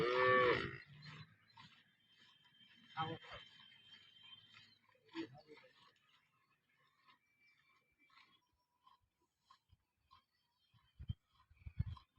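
A cow gives a loud moo at the start, followed by quieter scattered bumps and rustles with a few short sounds later on.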